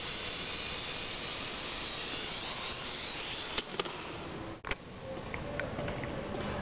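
An AR Drone quadcopter's rotors whine in a steady high-pitched hum while it flies, then a couple of sharp knocks and a brief dip mark it touching down before the motor noise continues.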